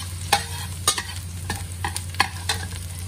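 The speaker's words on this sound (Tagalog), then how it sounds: "Ayan po, magigisa na tayo ng bawang." Garlic sautéing in a pan for lamb soup, a steady loud sizzle with a low hum underneath, broken by several sharp scrapes of a utensil stirring at irregular intervals.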